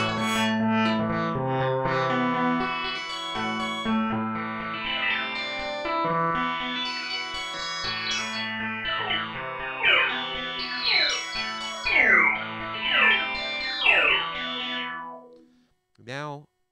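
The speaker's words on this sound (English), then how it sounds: "I've changed all sorts of things inside the synth, and you can hear how much my changes have made the sounds different." Korg DW-8000 synthesizer playing a melodic line with edited patch settings, sweeping filter-like tones with effects and echo, steady and loud throughout, then a short wobbling tone at the end.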